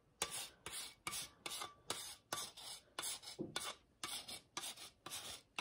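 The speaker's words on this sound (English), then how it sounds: "shave some zest on top" Lemon zest shaved onto the top of a lemonade cake with a grater, about a dozen quick, rhythmic rasping strokes, close and clear with no talking.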